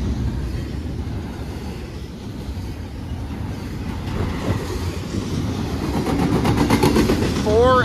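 Wabash intermodal freight train led by four locomotives, including a repaired AC44C6M and a GEVO, rumbling past with a steady broadband roar that builds toward the end, a rising horn-like tone near the finish, and voices talking over it.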